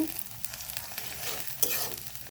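Ginger and garlic fry in a pan for chicken kosha, giving a brief, moderately loud crackling sizzle with a few scraping stirs over it.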